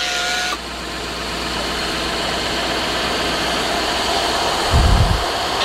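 A farm tractor engine idles steadily on a beef-butchering site, a continuous mid-level rumble running through the whole stretch with a brief louder low thump near the end; no talk is heard.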